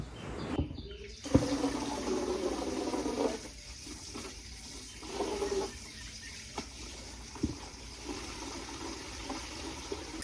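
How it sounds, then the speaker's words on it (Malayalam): Water splashing and trickling as potted plants are watered by hand at home, a steady pour with short breaks and small drips, moderately close and with no talking. "അപ്പോൾ ഞാൻ അവരതിനൊക്കെ ഒന്ന് നനച്ച് കൊടുക്കുകയാണ് അവർക്ക് വെള്ളം കൊടുക്കാൻ വേറെ ആരും ഇല്ലല്ലോ"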